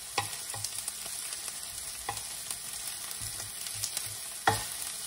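Garlic fries in a pan while being stirred, a soft continuous sizzle punctuated by repeated scraping and clinking utensil strokes at an uneven pace, close up and with no one talking.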